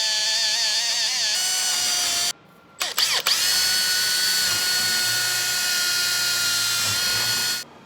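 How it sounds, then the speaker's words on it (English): A power drill bores holes into a steel expedition truck frame, running in a loud, steady whine with a brief stop and a few short bursts near the middle before drilling resumes and continues to the end. "Now we have drilled"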